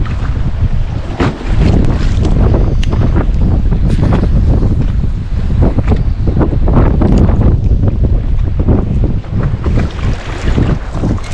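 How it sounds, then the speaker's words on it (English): Heavy wind buffets the microphone continuously on a fishing boat on open water in fall, a loud, dense roar with gusty surges and no voices. "Not sure how well this is gonna work in the wind. Pretty sure the audio is gonna suck"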